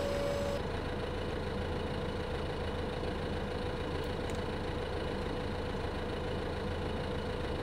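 A tractor engine idling in Farming Simulator 2015, a steady low droning rumble with constant mid-range hum, unchanging and close throughout, with a brief tone at the very start.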